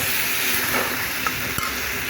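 Garlic, ginger and cumin paste stirred in a hot pan for chicken and pea pulao, a steady sizzling hiss throughout with a few faint scraping clicks of the spoon, no voices.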